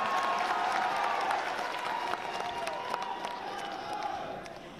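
Applause and crowd noise from an audience at a political speech in Delhi, a broad wash of clapping and murmur that fades slightly toward the end, heard from some distance.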